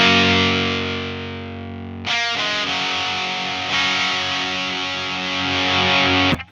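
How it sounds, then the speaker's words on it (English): Electric guitar played through a Boss SD-1w Super Overdrive pedal with its level turned down: a sustained clean-ish chord, then a fresh strummed chord around two seconds in, held at moderate volume with mild grit and no talking. "Again, if we want quieter sounds, we can turn it down."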